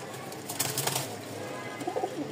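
Putul Gorra pigeons cooing softly in a loft, with low, steady murmuring coos and faint rustling over a continuous background hum.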